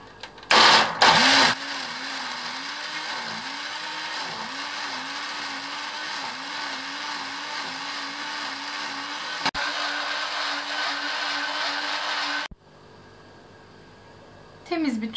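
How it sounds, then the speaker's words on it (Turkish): Smoothie maker blending soaked almonds with water for homemade almond milk, a steady loud motor whine running about eleven seconds with a wavering pitch, then stopping. "Smoothie makinesiyle hiç yapmamıştım."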